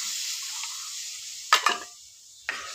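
Spiced water rinsed from a mixer jar is poured into frying spices for garlic rasam. A steady high sizzle runs throughout, broken by sharp hissing bursts as the liquid hits the hot pan, first a double burst and then a single one.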